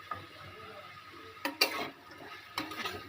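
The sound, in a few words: stirring vegetables with salt in a pan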